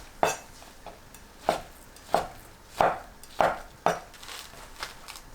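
Knife slicing fried tofu pouches into thin strips on a cutting board, about seven crisp, evenly spaced chops, close and clear over a quiet kitchen background.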